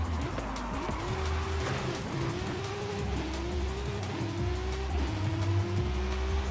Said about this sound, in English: I have to handbrake it to get around corners,